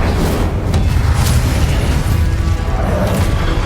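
An Incendio fire spell in Hogwarts Legacy on PS5 erupts in a dense, roaring blast with a deep boom, loud and sustained across the moment, no voices over it.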